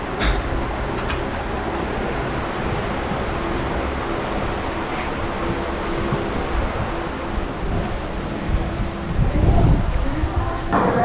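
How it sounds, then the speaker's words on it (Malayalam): A train pulling into Nagercoil Junction railway station on the line toward Kanyakumari, with a steady broad rumble and rushing noise throughout that swells slightly near the end. "ഇപ്പോൾ നമ്മളിത് നാഗർകോവിൽ ജംഗ്ഷനിൽ എത്തിയിട്ടോ, വണ്ടി ഇവിടെ എത്തിയിട്ടുണ്ട്."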